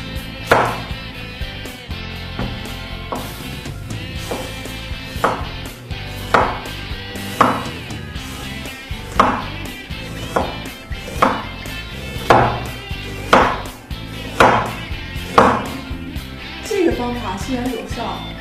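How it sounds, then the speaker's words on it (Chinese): A knife chops through an onion on a cutting board in steady, evenly spaced thuds, close and distinct, while a person talks over the chopping. "我这半个洋葱都没切完"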